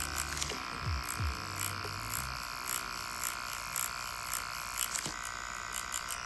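Tattoo machine doing dot work stipple shading on real skin, a steady close electric buzz that hums continuously with slight pulses.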